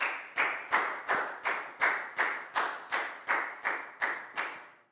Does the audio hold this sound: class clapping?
yes